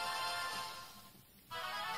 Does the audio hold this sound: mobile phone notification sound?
yes